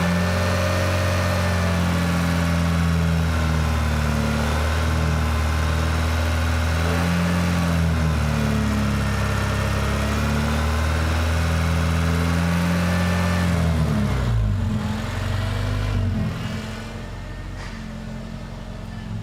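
A Honda car engine, the throttle popped open, revs loud and steady with strong low harmonic tones held high, then drops back toward idle near the end.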